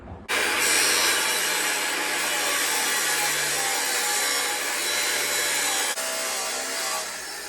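Trimming metal mounting tabs off a part on a Subaru Forester STI build: a steady, loud grinding-cutting noise runs continuously for several seconds with a brief dip near the end, no voices.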